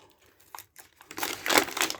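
Heavily taped gift package containing a toy being unwrapped: crinkling and tearing of wrapping and tape, faint and sparse at first, then louder, denser ripping bursts near the end.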